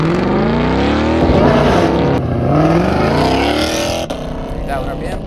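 Ford Mustang Shelby GT500 makes a launch-control start, its engine roaring loud and close through rapid rising gear pulls with quick shift breaks.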